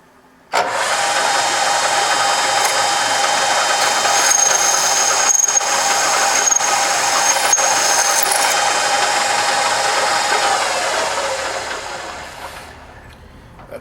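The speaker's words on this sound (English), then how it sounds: "we're going to go ahead and drill this hole" A power drill bores a hole for a DIY hole punch, a sustained whining grind that starts abruptly, holds steady and close for about eleven seconds with slight wavering, then winds down to silence.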